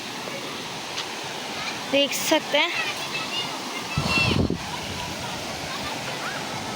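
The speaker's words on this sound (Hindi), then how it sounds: "ये है मेन स्पॉट और भी ऊपर से पानी आ रहा है" Water pours down from above at the main waterfall spot of Jabori's family park, a steady broadband roar throughout. Someone speaks over it, with a louder surge of splashing midway.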